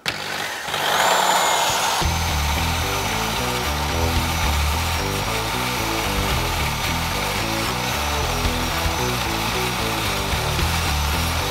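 A corded electric drill spins a rotary wire brush at low speed, cleaning pins during home maintenance on a Tesla Model 3: a loud, steady whirring hum that starts abruptly after a brief pause and runs continuously with no talk.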